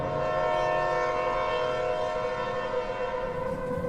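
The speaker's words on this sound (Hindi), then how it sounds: "ट्रेन ने हॉर्न दिया और धीरे धीरे रफ्तार पकड़ ली" Passenger train's horn blaring as it slowly pulls out of a station: a sustained, loud, steady tone with harmonic layers held over low rumbling rail and carriage noise, no voices.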